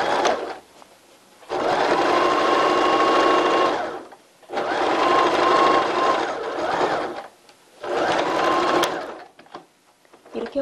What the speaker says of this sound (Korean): 허리선 고무줄은요, 1cm 고무줄로 당겨가며 박음질을 하겠습니다.